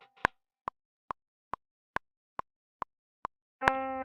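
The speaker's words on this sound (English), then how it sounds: "And you can hear the delays." Chase Bliss delay pedal synced to the Logic tempo repeats a short plucked tone as a string of evenly spaced, quick clicks, about eight repeats in steady rhythm. A brighter tonal note enters at the end.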